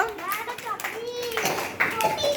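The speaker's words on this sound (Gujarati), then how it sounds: "બધા માટે તાળી પાડ દોજો" Young children clapping together in a first-grade classroom, a brief scattered burst of hand claps mixed with excited children's voices and chatter.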